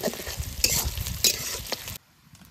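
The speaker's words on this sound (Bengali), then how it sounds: "এবার এইগুলো হালকা একটু করে ভেজে নেব।" Onions frying in hot oil in a pan and being stirred, with bursts of sizzling and scraping strokes for about two seconds before the sound cuts out abruptly.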